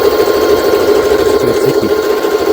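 A Jaguar SJ-23 sewing machine runs at high speed, a steady close whirring hum with a rapid mechanical buzz, loud and continuous with no voices.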